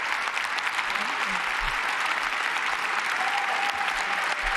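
Sustained audience applause at a presidential inauguration, a steady broad wash of clapping from a large crowd throughout, with faint voices mixed underneath.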